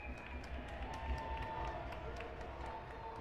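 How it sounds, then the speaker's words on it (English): Crowd noise at an ice hockey game, a continuous roar of cheering spectators filling the arena with steady intensity, with a commentator's voice faintly underneath. "you can hear the crowd really getting into this game here"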